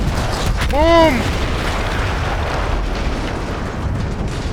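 A single deep explosion as an artillery gun is blown up in the World War I game Battlefield 1, booming once over a constant rumble of battle noise and a brief descending whine.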